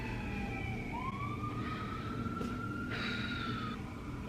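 An ambulance siren wails outside, a steady rising and falling tone that sweeps up and holds for several seconds as the vehicle passes, heard alone over a low background hum with no talking.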